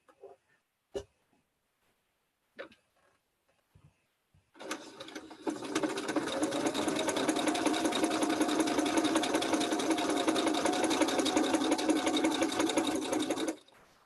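A sewing machine stitches quilt pieces in a steady, continuous run of about nine seconds, preceded by a few sharp clicks and brief handling noises, with no talking.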